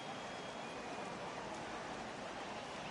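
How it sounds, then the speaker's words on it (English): Heavy rain pours steadily in MLB The Show 18 during a baseball game, a dense, even hiss of downpour that stays constant and fairly loud with no pauses. "I think the heart of this system is right on top of us because it is really coming down out there"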